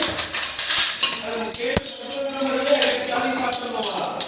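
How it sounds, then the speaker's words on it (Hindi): Metal spoons and small bowls picked up in a home, close clinks and clattering knocks, one sharp clank standing out, with a voice talking throughout. "तो अब हम चम्मच कटोरियाँ ले आते हैं"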